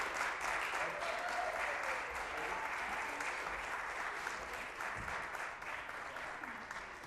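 Steady, dense applause from an audience at a NASDAQ stock market opening ceremony, welcoming a board of directors; continuous and fairly loud throughout, with crowd noise blended in.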